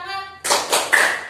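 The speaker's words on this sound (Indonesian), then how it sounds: "369 tepuk tangan." A voice gives a brief call, then children play the 369 clapping game in class with three quick, bright clap bursts close by.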